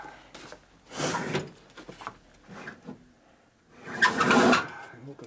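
Drawer of valve seals being pulled open in a motorcycle workshop, producing a couple of close sliding, rattling bursts separated by quieter shuffling, with no speech.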